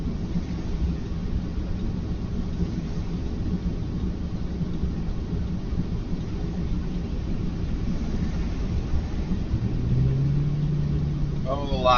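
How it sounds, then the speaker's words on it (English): Road traffic in light snow, with car engines rumbling steadily in the background and one vehicle straining to move, heard under continuous talk. "Lots of traffic."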